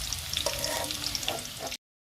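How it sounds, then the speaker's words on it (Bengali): Potatoes frying in hot oil give a steady, close sizzle with crackling pops throughout, ending abruptly; no voices. "তেলটা গরম হয়েছে, আলুগুলো দিয়ে আলুগুলো ভাজা মতো হচ্ছে"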